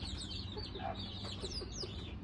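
Chickens and young chicks cluck and peep inside a farm shed after rain, several birds overlapping in short calls with high cheeping above a low steady background.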